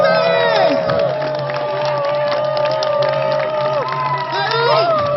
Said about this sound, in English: let's give a round of applause for our speakers and petition deliverers